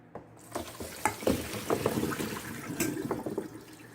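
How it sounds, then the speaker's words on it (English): Water drains from boiled cauliflower florets through a strainer set over a kitchen sink, with close splashes and uneven gurgling pours and drips over a few seconds, no talking. "You can just keep it like this on the sink and just pour."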